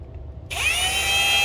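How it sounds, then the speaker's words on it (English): A power drill abruptly spins up and whines loudly at a high pitch, biting steadily into the metal rivet of a diecast toy car wheel at close range. "I'm just drilling off the top of that rivet"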